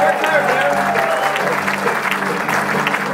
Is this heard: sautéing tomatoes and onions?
no